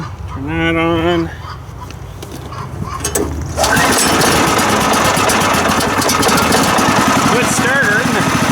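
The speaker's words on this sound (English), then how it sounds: "we'll fire it up and let it warm up, and then we'll tighten the blade up here too" A sawmill engine is cranked and catches, then settles into a loud, steady warm-up drone. A few honking goose-like calls sound beforehand.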